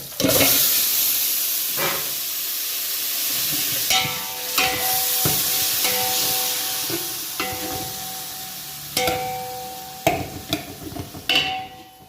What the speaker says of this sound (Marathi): हे आपलं चिकन जे अर्धा तास झालं मॅरिनेट करून ठेवलं होतं ते आता याच्यामध्ये टाकणार